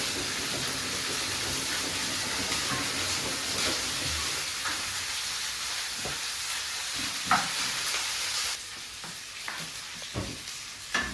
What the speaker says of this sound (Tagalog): Pag medyo luto na po yung ating bawang at sibuyas, ilagay na po natin ang ating chicken.